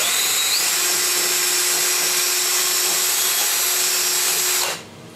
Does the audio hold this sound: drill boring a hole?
yes